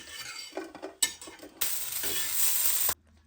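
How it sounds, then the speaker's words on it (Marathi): Onion sizzles and crackles in a hot pan, with a few scraping stirs at first, then a steady, loud frying hiss that stops abruptly. "त्यानंतर आपण कांदा भाजून घेऊ।"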